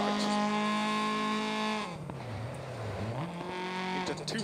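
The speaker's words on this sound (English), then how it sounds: "The audio in the game, the engine sounds is absolutely amazing" Rally car engine in the racing game DiRT, revving high and steady, then dropping and bogging low before climbing again on a gear change, loud and close with faint tire noise.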